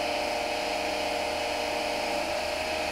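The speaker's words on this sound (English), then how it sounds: "Now the alternator starts rotating with its rated RPM." A three-phase alternator runs at its rated speed of about 1500 RPM, giving a steady, loud whine and hum that holds constant throughout with no pauses.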